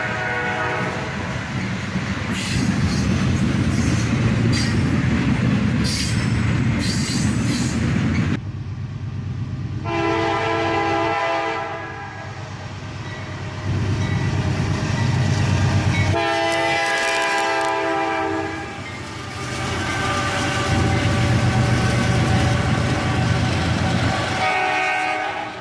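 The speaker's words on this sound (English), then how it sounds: "Work hard to get this train moving out of Carlisle siding." A freight train with a smoke-belching SD42 locomotive strains to pull out of Carlisle siding, a loud, close diesel roar that rises and falls, with squealing wheels and clanking cars.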